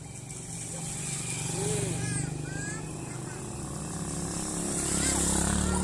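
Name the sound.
motorcycle passing by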